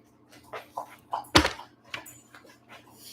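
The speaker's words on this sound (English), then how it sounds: "Love the dog." A pet dog gives soft intermittent whimpers and small yips, close but fairly quiet, broken by one sharp knock in an indoor room.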